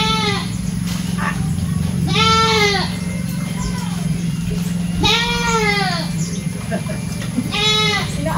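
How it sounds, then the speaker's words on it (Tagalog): A goat bleats loudly in repeated wavering cries, four or five in all, close by and over a steady background hum. "Yung kambing, iiyak."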